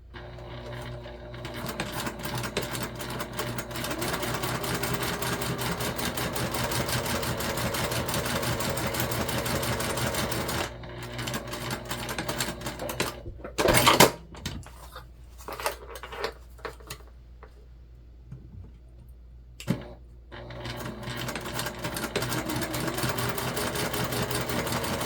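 Sewing machine top stitching a slip pocket on a mini backpack, a long steady mechanical whir with stitch rhythm, broken midway by pauses, sharp clatter and handling knocks, then running steadily again.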